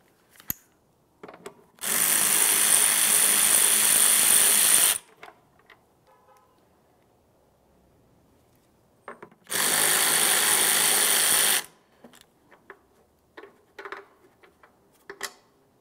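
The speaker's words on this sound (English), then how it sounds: "Continue on to removing your two 8mm headed bolts that hold this in place." A power drill whirs loudly in two steady bursts of about three and two seconds, backing out the 8mm bolts holding a 2009–2019 Ford Flex tail lamp, with small clicks and handling noises in the quiet between.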